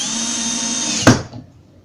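A power drill or driver drives a screw into wooden Tetris-style modular shelf pieces glued with white wood glue, a steady whirring hum ending in one sharp, loud bite and a brief fading rattle.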